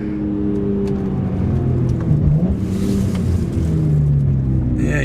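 BMW E46 M3 with an SMG gearbox accelerating hard on the road, a loud close engine drone rising and dipping through abrupt gear changes, with no talking.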